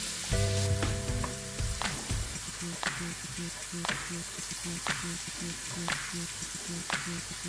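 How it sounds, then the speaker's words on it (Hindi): A cup of garlic frying in hot oil on high flame for Schezwan sauce, a loud steady sizzle with regular scraping stir strokes about once a second, close up and without talk. "ये ऑयल अच्छे से हीट अप हो गया है। अब हम इसमें गार्लिक डालेंगे।"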